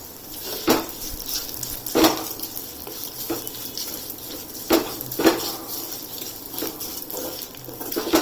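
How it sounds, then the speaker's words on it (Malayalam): Ivy gourd pieces tossed into a pan with ginger and sautéed, giving close, irregular clatters and scrapes of a utensil against the pan over a steady low sizzle, with no voices. "അതിലേക്ക് നമുക്ക് ഈ കോവയ്ക്ക് ഇട്ട് കൊടുക്കാം. എന്നിട്ട് അതും ഒന്ന് നന്നായിട്ടൊന്ന് വഴറ്റണം"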